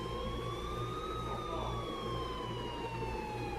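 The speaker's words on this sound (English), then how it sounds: "until I finally heard sirens in the distance" A distant siren wails steadily, its pitch slowly rising and falling, over a constant low traffic rumble.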